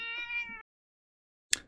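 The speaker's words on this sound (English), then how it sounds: "my cat comes on screen." A house cat lets out one clear, close meow at moderate loudness, followed by silence and then a brief sharp knock.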